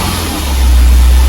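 A 1983 Cadillac Cimarron engine runs for the first time in 23 years, a loud, steady low rumble that swells slightly as it settles into a smooth idle, close up with no talk.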